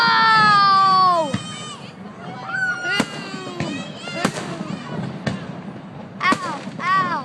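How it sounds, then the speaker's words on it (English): A fireworks show fills the air with descending whistles and sharp bangs, several close explosions cracking at irregular intervals while people nearby talk and react. "These are the kind of fireworks we got."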